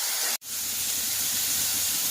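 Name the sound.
frying masala in a pan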